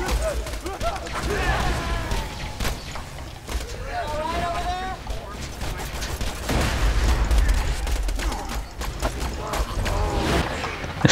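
Rapid gunfire in the Borderlands 2 video game, sharp repeated cracks scattered across the whole stretch, mixed with game effects and voices talking over them.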